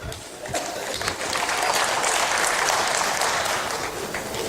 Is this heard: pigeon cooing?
no